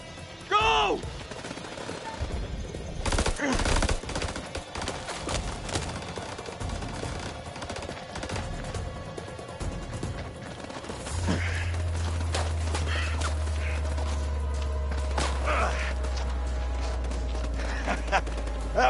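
Gunfire in a House of Ashes firefight: dense bursts of rapid shots from 2 to 5 seconds, then scattered shots over a steady low rumble, under tense shouting voices.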